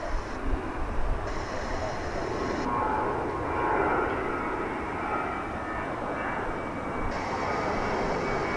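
An airliner departing a DFW Airport runway for Palm Springs roars loud and steady with engine rumble, heard from nearby on the ground as the noise holds level throughout.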